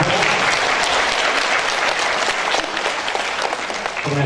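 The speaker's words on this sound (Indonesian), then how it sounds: "Berikan tepuk tangan ibu-ibu kepada" A room full of women at a religious study gathering clapping steadily, dense continuous applause throughout with a few faint voices mixed in.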